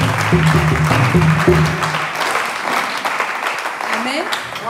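A church congregation applauds during a Sunday service, steady crowd clapping mixed with a voice and some music, continuing at a fairly loud level throughout.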